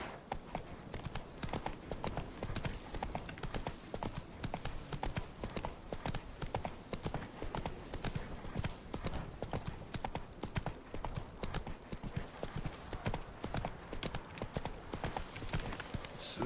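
Horse hooves clip-clop in The Witcher 3 video game: a fast, continuous, even galloping rhythm of clear hoof strikes throughout, with no speech.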